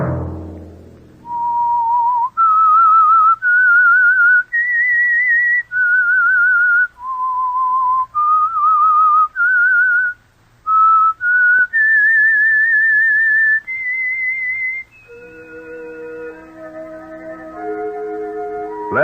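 A lone whistler carries the theme tune of the Whistler radio show, a slow melody of clear sustained notes with short pauses between phrases, close and loud, ending as an orchestral chord comes in.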